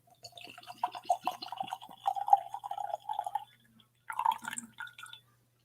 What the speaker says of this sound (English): Always terrified of doing that with whiskey Glencairn, is shaking the water out of it.